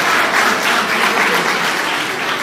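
Students at Janak Higher Secondary School in Gaidakot, Nawalparasi, applaud steadily at a cyber security awareness event, a dense, loud wash of clapping that continues throughout without pause.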